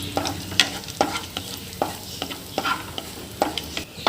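Cashews and raisins fry in ghee in a pan for tender coconut halwa, a steady sizzle broken by repeated scraping strokes of a spoon stirring them, close and with no voices.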